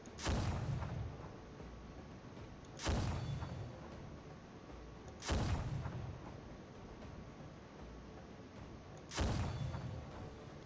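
Cannons fire in the Final Fantasy XIV video game: four heavy booms land at roughly even intervals of about two and a half seconds, each a sharp blast that trails off into a rumbling tail, with no talking.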